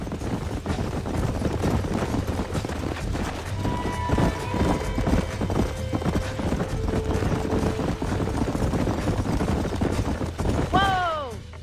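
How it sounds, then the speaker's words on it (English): Horses in the Red Dead Redemption video game, rapid rhythmic hoof clip-clops with a short whinny near the end, set under a game soundtrack and ambient noise, with some speech mixed in. "These are fine horses"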